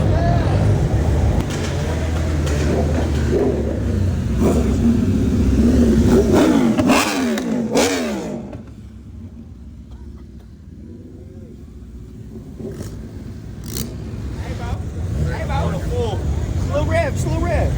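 Car engines rev and rumble loudly at a car meet, with throaty revving and idling passes from several vehicles, including a Lamborghini, while people talk nearby over the noise.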